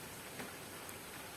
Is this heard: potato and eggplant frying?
no